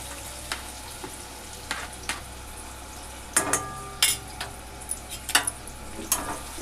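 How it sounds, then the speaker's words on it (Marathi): Onion sautéing in a pan for bhindi bhaji gives a soft, low sizzle broken by sporadic scrapes and clicks of a spatula against metal, fairly close and quiet, with no talking. "छान कांदा परतून घ्यायचा आहे"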